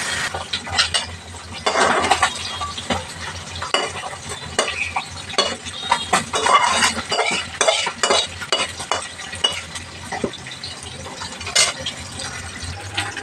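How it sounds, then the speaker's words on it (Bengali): Fish frying in a pan is turned and flipped, with busy clattering scrapes and bursts of loud sizzling that rise and fall irregularly, close up and without talk. "এবার এটাকে উল্টো পাল্টে ভেজে নিই"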